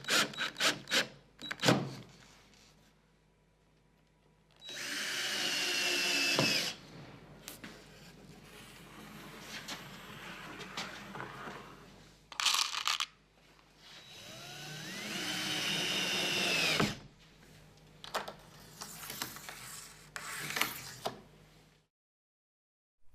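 A power screwdriver drives screws into the rail of a homemade vertical panel saw in several whirring bursts of a few seconds each, separated by quiet pauses and faint handling knocks.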